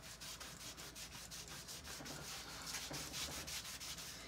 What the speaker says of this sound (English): a little bit of paste wax, and then I'm going to rub the majority of it off